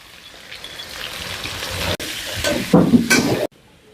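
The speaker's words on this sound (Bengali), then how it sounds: "তেল গরম হয়েছে, আলু ছাড়ি দিলাম।" Potatoes dropped into hot oil with salt and turmeric, a loud close sizzle and hiss that builds and crackles, then cuts off abruptly to quiet.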